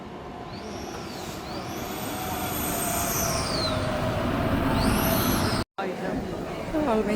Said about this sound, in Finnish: Nyt täällä Iittalassa junaa odottelen ja Larissa hyppää matkalta kyytiin